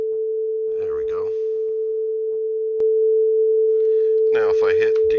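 A steady synthesized waveshaping tone from a Pure Data patch holds one constant pitch throughout, loud and even, while someone talks over it in two short bursts and a brief click lands midway.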